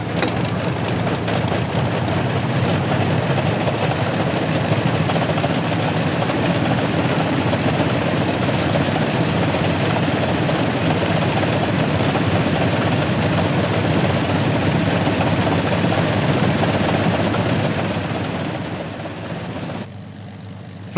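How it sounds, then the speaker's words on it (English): Vintage 1917-era aeroplanes flying in formation make a loud, continuous propeller engine drone that holds steady before easing off at the end. "It's awesome actually to look out in a formation and see 2 other aeroplanes of the same vintage."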